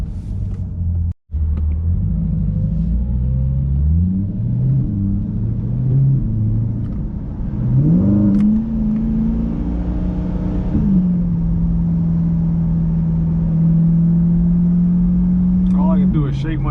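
A 2021 Chevrolet Corvette C8 Stingray with a Corsa aftermarket exhaust idles with a deep burbling note, then revs up and holds a steady high drone, loud and close, with occasional voices.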